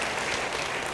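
Steady, dense clapping from a church congregation fills the whole moment, a continuous wash of hands with no voices breaking through.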